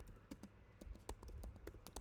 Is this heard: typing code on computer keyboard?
yes